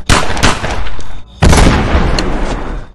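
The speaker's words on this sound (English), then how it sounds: "the alarming sound of gunshots reaches his ears" Two loud, close gunshots, each followed by a long booming echo that rolls away.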